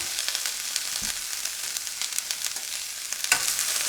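Beans palya cooking in a pan gives a steady, close sizzle and fry hiss, with soft scrapes of stirring and two brief louder knocks of the utensil against the pan, and no voices.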